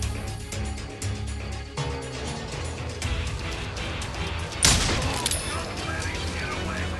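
Bursts of gunfire from the Wild West shooter Call of Juarez Gunslinger, a steady clatter of shots with a louder blast near the middle, mixed with game sound and overlapping shouting voices.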